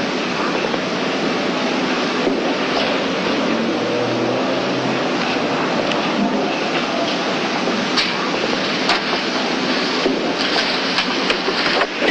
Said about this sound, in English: So is Comrade Irene's train